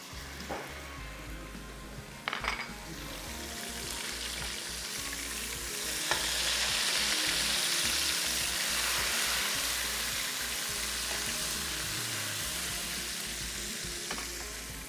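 Garlic-ginger paste sizzling and frying in a hot pan for Dhaka kabab, a steady loud broadband hiss that swells after a few seconds, with occasional stirring scrapes and clinks, no talking.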